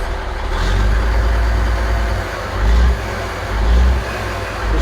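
A pickup truck engine idles steadily nearby, a low rumbling hum that swells briefly a few times without anyone speaking.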